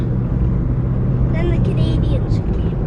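A car engine rumbles steadily from inside the vehicle as it climbs a mountain road between Qualicum Beach and Little Qualicum, with a low continuous drone and a faint voice briefly over it.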